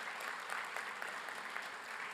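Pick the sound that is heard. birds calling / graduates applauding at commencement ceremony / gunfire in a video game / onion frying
graduates applauding at commencement ceremony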